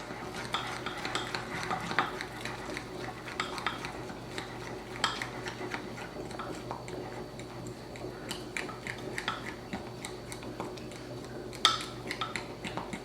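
Ube mochi pancake batter is stirred in a pan, with soft, irregular scraping and light clinks of a utensil against the pan, close and quiet, continuing steadily with no voices.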